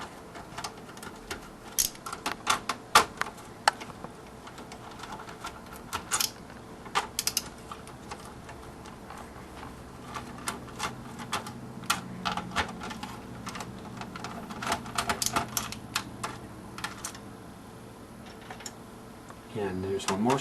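Processor frame and heatsink being removed from a Dell GX280 system board: scattered sharp plastic and metal clicks, snaps and rattles at close range, irregularly spaced, with someone talking over parts of it.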